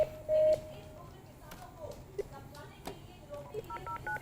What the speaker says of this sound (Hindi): नवेद इस वक्त योगेंद्र यादव को फोन लगा रहे हैं